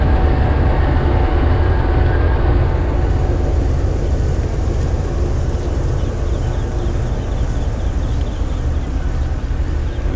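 The 8 Down Tezgam passenger train pulls into platform 1 at Jhelum railway station with a loud, close, continuous rumble of rolling wheels and engine that eases slightly after the first few seconds.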